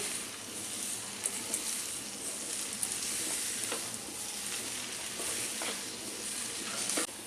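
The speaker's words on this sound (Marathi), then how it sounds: "याला आपण छान मिक्स करून घेऊया।" Egg hakka noodles are stir-fried and tossed in a hot pan, giving a constant close sizzle with repeated spatula scrapes and clacks throughout.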